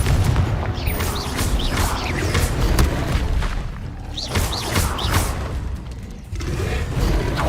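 Blasting Confringo spell explosions in Hogwarts Legacy, with booming impacts and whooshing spell casts packed densely over continuous game action and effects, loud and sustained throughout.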